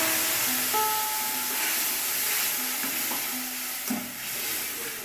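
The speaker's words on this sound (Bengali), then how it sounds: "দুটো কাঁচা লঙ্কা চিড়ে দিলাম আর কালো জিরে ফোড়ন দিয়ে দিলাম। একটুখানি ভেজে নেব।" Green chillies and black cumin seeds frying in hot oil while making a Bengali fish curry, giving a steady close sizzle and hiss with a few stirring clinks and scrapes. No one speaks.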